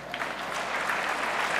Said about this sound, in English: Sure, you can applaud that.